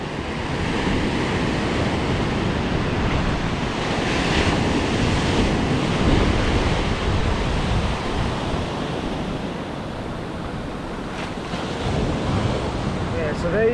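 Surf rolls and breaks continuously on a K'Gari (Fraser Island) beach, a loud, close wash of waves mixed with strong wind buffeting the microphone, with no talking.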